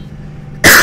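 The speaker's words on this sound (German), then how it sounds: "Oh, und da fängt der Husten an." A single loud cough bursts in near the end, close and harsh, following a quiet low hum inside a simulated city bus in the OMSI 2 driving game.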